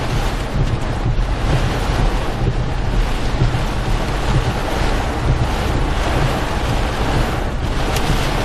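Strong storm wind roars steadily against the microphone outdoors in Tennessee, Alabama or Georgia, a loud, continuous rushing buffet with no pauses and no voices.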